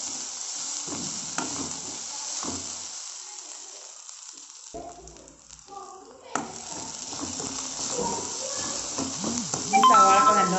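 Sliced onions sautéing in a pan for a cauliflower masala, a soft continuous sizzle with intermittent stirring scrapes, briefly dropping away mid-clip before resuming and growing busier toward the end.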